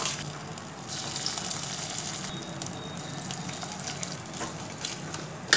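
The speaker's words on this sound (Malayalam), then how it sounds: "അപ്പോൾ താളിച്ചത് നമ്മൾ ഇതിലേക്ക് ഡയറക്റ്റായിട്ട് ഇട്ട് കൊടുക്കുകയാണ്." Hot tempering poured straight into a pot of ven pongal gives a steady, close sizzle and bubbling hiss that holds evenly throughout, with a small sharp crackle near the end and no talking.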